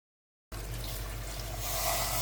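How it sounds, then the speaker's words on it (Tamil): About a cup of water pours into a pressure cooker over mutton pieces with salt and ginger garlic paste, a faint, steady close splashing that starts suddenly after brief silence and runs without talk. "1 கப் தண்ணி சேர்த்துக்கிறேன்"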